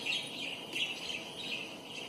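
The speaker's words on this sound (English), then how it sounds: "the bird noises is for the cats" Faint, high bird chirps repeat in short bursts over a quiet background, like thin recorded birdsong playing softly for cats.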